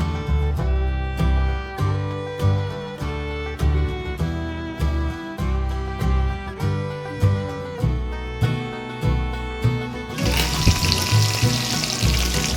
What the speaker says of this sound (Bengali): তেল গরম হয়ে গেছে, এখন মাছগুলো আমি ভেজে নেবো।